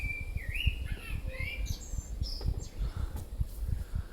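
Several birds chirp and whistle in short, bright phrases, fairly close, over a soft rumbling background with no talking.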